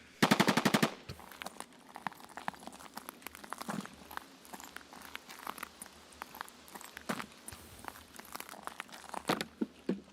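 Gunfire in the shooter game Escape from Tarkov opens with a loud, fast automatic burst, followed by scattered crackling shots and rustling movement, with no talk.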